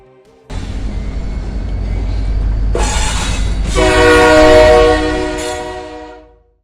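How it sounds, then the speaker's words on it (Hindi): A freight train rumbles past close by, a low steady roar of wheels building and fading, with a long horn blaring partway through. "अच्छा, वो मालगाड़ी शायद अभी चली गई होगी।"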